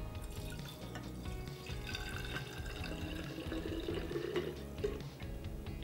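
Wine is poured into a ZenCore D119 electric wine decanter, a continuous trickling and splashing with small dripping accents that holds steady and fairly quiet throughout.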